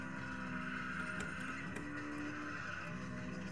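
Car drifting in the Sega R-Tuned upright arcade racing machine, a continuous engine roar with tire skid noise, steady and loud throughout.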